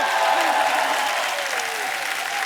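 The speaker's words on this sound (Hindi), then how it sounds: "एक बार जोरदार तालियां हो जाए टीम सर्कस के लिए।" Studio audience applauding for Team Circus on a comedy talk show, a dense, steady wash of loud clapping that holds for the whole stretch and eases slightly toward the end.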